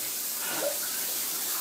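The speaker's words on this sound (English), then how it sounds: "Turn off the shower, will ya?" A shower runs with a steady, hissing broadband spray of water, constant and fairly close, with a faint brief voice-like sound midway.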